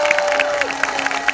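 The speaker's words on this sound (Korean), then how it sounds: "자, 손바닥에 바스러지도록 박수 한번 쳐주시고" A concert crowd at an outdoor ginseng festival in Ganghwa applauds with scattered claps and light cheering, moderately loud, while a sustained tone fades out underneath.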